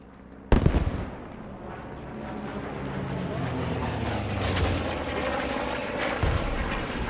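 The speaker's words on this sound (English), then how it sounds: "Move. Bomber." Bomber aircraft attacking in the World War II game Post Scriptum: a sudden loud blast, then a long sustained engine roar and rumble building overhead, with a second sharp impact near the end and no clear talking.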